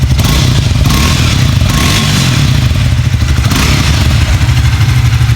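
Triumph Speed T4 motorcycle engine running loud and close, a steady low throbbing rumble with clattering mechanical texture and brief rev swells, no talk over it.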